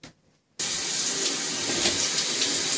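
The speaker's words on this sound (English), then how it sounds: "In the shower." Shower water gushes steadily and loudly at close range after a brief near-silent moment, a continuous hissing spray with no voices.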